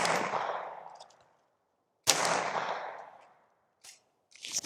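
Two suppressed .22 shots fired with CCI Mini Mag rounds through a PipSqueak suppressor, each a sharp crack fading over about a second, followed by faint mechanical clicks.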